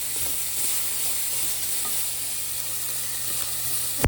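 Vegetables with onions and garlic sizzle steadily in a hot pan, a continuous close hiss with faint stirring clicks throughout.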